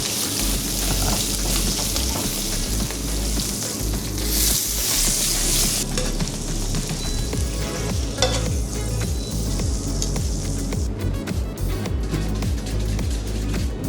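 Halved lobster tails sizzle steadily in browning butter in a pan, a loud, dense, continuous frying hiss with no talk over it.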